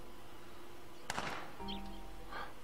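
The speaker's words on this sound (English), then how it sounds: "Did you hear that gunshot, guys?" Distant gunshot in the zombie survival video game Project Zomboid: a single faint sharp crack followed by a short rolling echo, over a quiet steady background hum with a few soft in-game tones.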